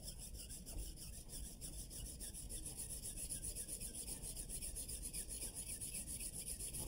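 String sawed back and forth through PVC pipe, the friction producing a steady, continuous rasping rub that holds at an even loudness for the full stretch, close up and with no talk.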